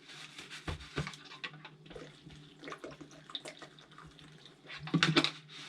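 Water runs and splashes in a sink while a vintage Tamiya 037 model car is washed after stripping, with faint trickling broken by irregular splashes and clatter that grow louder near the end.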